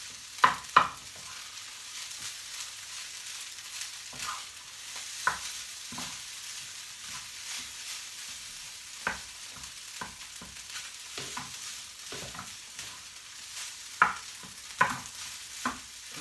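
Rice and shrimp fry in a pan under a steady sizzle, with a spatula scraping and stirring in irregular, sharp strokes close to the listener.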